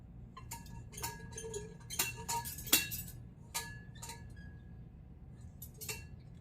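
Metal kitchen vessels and cups clink and clatter as they are handled, a series of sharp irregular chinks close up in a quiet room, with no talking.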